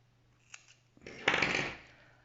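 Scissors snip crochet yarn once the work is finished: a couple of faint ticks, then one close, crisp cut that fades quickly into quiet.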